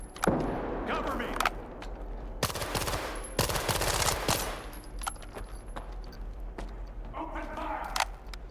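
Bursts of automatic gunfire in the video game Stalker 2, loud and rapid volleys in two main clusters with scattered single shots, under shouted voices from characters.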